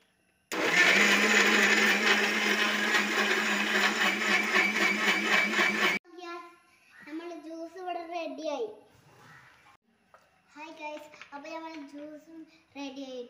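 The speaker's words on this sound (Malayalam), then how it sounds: "ഐസ് മിക്സിയിട്ട് അരക്കാം" A mixer grinder whirs loudly and steadily for several seconds, blending mango with ice cubes and sugar into juice, then stops abruptly and someone talks.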